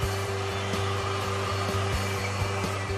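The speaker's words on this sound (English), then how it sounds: "Use heat on the curves after taping to be sure the filament stays securely in place." A heat gun blows a steady, close airflow with a constant motor hum while heating curved vinyl wrap. The whoosh runs unbroken and alone throughout.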